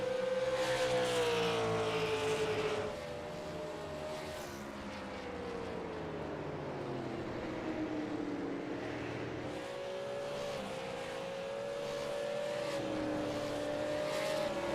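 Late-model race car engines at Richmond, led by Trevor Edwards' No. 32 Crooked Line Racing car, whine steadily with rising and falling pitch as the cars pass. The roar stays loud and continuous from start to finish.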